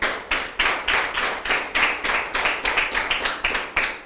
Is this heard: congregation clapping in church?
yes